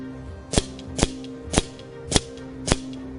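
Benjamin Trail NP 22 nitro-piston air rifle firing FX pellets outdoors, five sharp cracking shots spaced roughly half a second apart over a steady low hum, each shot loud and close.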